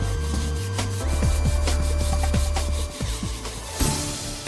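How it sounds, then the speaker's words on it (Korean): Coarse sandpaper rasps against a wooden katana scabbard in repeated back-and-forth strokes, a close, gritty scraping rhythm with no talking. "거친 사포로 나무의 각진 부분을 긁어내자"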